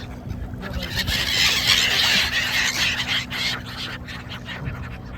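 Flock of birds gathering over a riverbank to food thrown to them, a dense chorus of squealing calls swelling and fading close by, over low engine-like rumble and some background voices.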